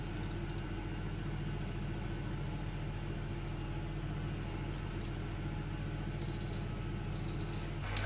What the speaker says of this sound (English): So you can hear the timer going.